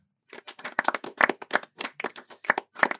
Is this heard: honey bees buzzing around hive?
no